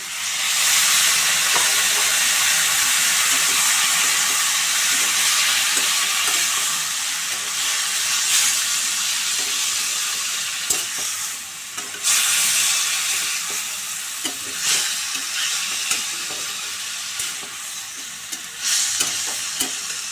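Water poured onto a frying spice paste of cumin and turmeric powder for a light drumstick curry: a loud, continuous steamy hiss with stirring clicks that slowly settles down.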